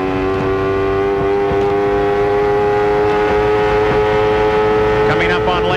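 CART race cars at speed on the 1993 Toronto street circuit, engines howling in a steady high-pitched drone before downshifting and braking into a corner, with a commentator talking over the roar.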